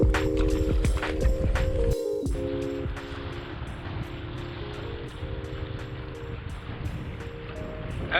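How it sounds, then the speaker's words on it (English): Strong wind roars steadily across the microphone while bass fishing, buffeting it throughout, over a low droning hum like a boat engine. "As you can see, guys, it is extremely windy."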